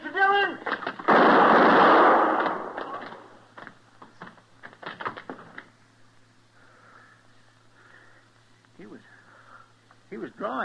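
A loud gunshot blast rings out in an old Western drama scene, followed by scattered smaller knocks and movement noises, with voices speaking around it.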